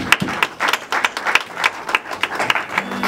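Rhythmic clapping from a church congregation at a worship service, fairly loud and close, with sharp irregular peaks and only a little voice underneath.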